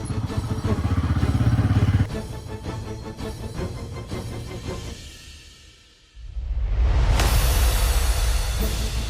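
A loud motorcycle engine roars close by, fades briefly, then revs back up to a strong, steady growl.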